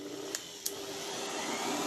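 An electric blower with speed control running steadily: a continuous broadband rushing whir, close and even, with a couple of faint clicks near the start.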